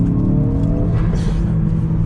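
A Ford Focus RS engine roars loudly and steadily while driven hard, its pitch shifting as the revs climb and fall, with a dense low rumble throughout and no voices.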